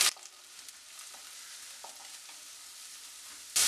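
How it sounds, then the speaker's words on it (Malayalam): Chopped onion, green chillies and curry leaves sauté in a pan with a steady, fairly soft sizzle and occasional faint stirring clicks, closing on a louder burst of frying noise. "ഇത് നന്നായിട്ടൊന്ന് വഴറ്റിയെടുക്കണം"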